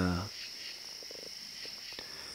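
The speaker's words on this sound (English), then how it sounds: "we can hear frogs to the west" Frogs call at night, faint scattered croaks and chirps at a distance over a constant insect-like hiss in a quiet outdoor setting.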